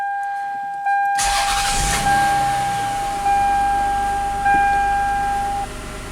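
A 1994 Lexus ES300 with a transmission that drives only in reverse cranks briefly and starts. Its engine settles into a close, steady idle, with faint clunks and whines as the gears are shifted.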